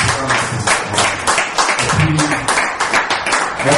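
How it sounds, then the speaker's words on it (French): Audience applause at a community gathering in Lyon, a dense, steady wash of many hands clapping that fills the whole stretch at even loudness, with some voices mixed in. "ça ne peut que mériter vraiment un applaudissement de votre part"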